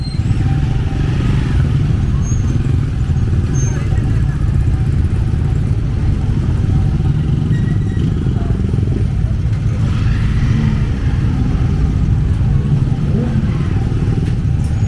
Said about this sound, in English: Traffic is thick.